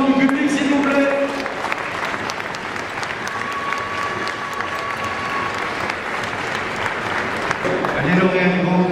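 Sustained applause from a large audience at an agricultural high school trophy ceremony at a farm show, dense and steady throughout, with some voices and crowd noise mixed in.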